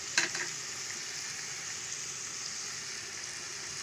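Salt, chili powder and turmeric frying in oil, a steady hissing sizzle that holds evenly throughout, opening with a brief clatter of stirring and then continuing alone without voices.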